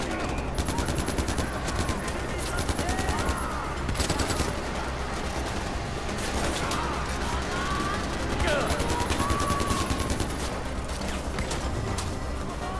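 Gunfire in the video game Far Cry 4, with rapid, repeated shots and bursts running throughout under someone talking over the action.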